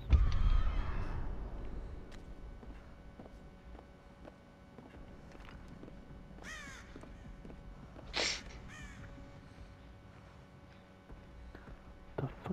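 Crows cawing in the video game Dead by Daylight, a few harsh caws scattered over quiet game ambience with faint footsteps, one louder burst near the end.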